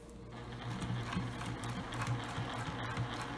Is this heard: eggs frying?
no